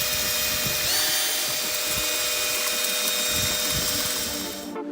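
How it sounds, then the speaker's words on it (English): An ordinary handheld drill drives a motorless plastering machine, giving a steady, loud whine with a faint pitch rise near the start, running continuously before cutting off at the very end. "This machine doesn't have its own motor and is powered by an ordinary drill"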